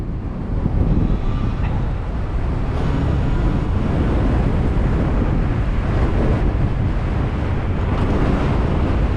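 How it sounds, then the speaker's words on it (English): Loud, constant wind roaring across the microphone of a moving RZ at about 113 km/h, a heavy low rumble with gusty buffeting throughout and no pauses. "Man, it's windy as crap too."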